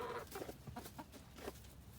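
Laying hens cluck softly in a run near their nesting boxes, a quick series of short clucks, faint and fairly close, with no talking.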